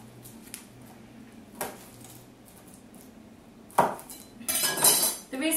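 A knife working through crushed garlic cloves on a cutting board, a few isolated clicks and taps followed by a louder burst of scraping and clattering near the end, no talk.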